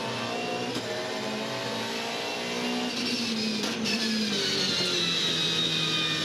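A Supercars touring car pulls away from a corner at Winton, its engine note rising as the throttle opens. The mid-pitched roar is steady and fairly loud, carrying up to higher revs alone with no voices.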